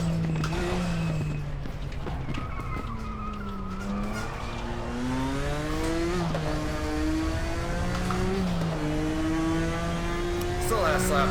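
A vintage race car in the Raceroom racing game drives hard, its engine rising and falling through repeated gear changes with tire squeal, continuous and loud, while a voice talks over it.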